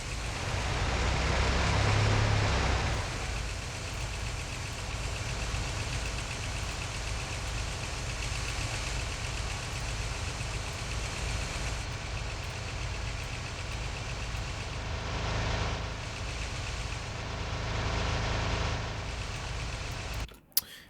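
Truck engine from the video game Project T, a continuous synthesized drone that swells in the first few seconds and then holds steady, loud and alone, cutting off abruptly at the end.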